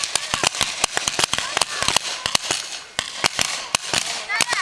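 Paintball markers fire in rapid sharp cracks during an outdoor paintball game, dense overlapping shots throughout, with people shouting now and then.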